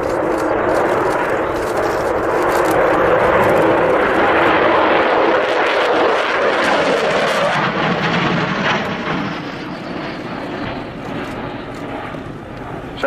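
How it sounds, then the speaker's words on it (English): Avro Vulcan XH558 bomber passing along the runway display line at the RIAT 2015 air show, a loud roaring jet rush that swells, peaks, then recedes and fades into a quieter rumble. "So as Kev brings the Vulcan in along the runway, along the display line"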